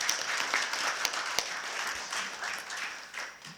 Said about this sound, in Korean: 박수를 한번 치고 시작하는 게 좋을 것